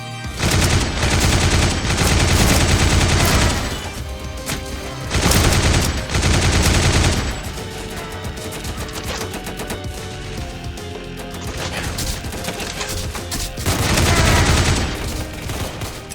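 RPK machine gun firing in the zombie shooter game The Undead Coming, loud sustained automatic bursts separated by short pauses, with echoing gunfire and background game sounds between volleys.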